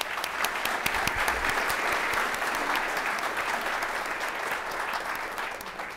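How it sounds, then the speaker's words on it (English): A conference audience at the NDSS 2019 security symposium welcome session applauds steadily, dense clapping filling the full six seconds at an even, moderately loud level without letting up. "Let's give him a round of applause"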